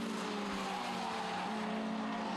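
Race cars at Snetterton circuit in 2004 drone past with a continuous engine whine and tire noise, heard as a steady, fairly faint track-side roar without talk.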